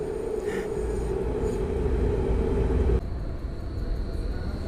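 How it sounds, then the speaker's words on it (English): A steady rumbling roar of a train rolling past nearby, with a low mechanical hum that suddenly changes character partway through. "let's see how it sounds when the tram goes by and the S-Bahn at the same time"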